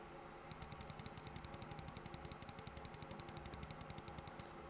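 Rapid, regular clicks of the main button on a Logitech G Pro Wireless mouse, dozens in quick succession, crisp and close over a low steady hum.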